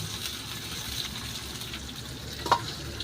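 Onion fries in a pan and is stirred, giving a faint, steady sizzling hiss with soft scraping and one brief clink, heard alone without talking.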